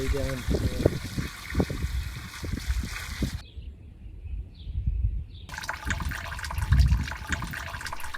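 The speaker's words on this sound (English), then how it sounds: "And let's pour in some water." Water poured into a buried drain pipe leading to an outdoor sump well, trickling and gurgling in short bursts with a brief quiet gap, close by and moderately faint.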